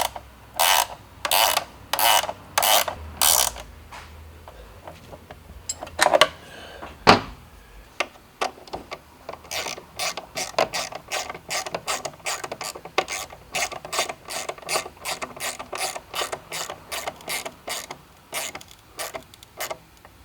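Ratchet tightening a nylock bolt on a car chin scoop: rapid close ratcheting clicks in short bursts, then a longer run of steady clicking with a brief pause between.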